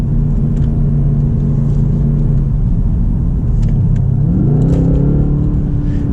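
Mercedes C63 AMG convertible with a turbo V8 in sport mode, a steady deep engine drone heard from inside the car that rises in pitch as it accelerates through a gear, with continuous road rumble and no voices.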